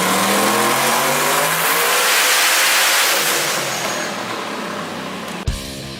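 A turbocharged car engine roaring at high revs in a dyno cell at the Summernats car festival, loud and close, with its pitch rising and then easing off before a sharp pop near the end.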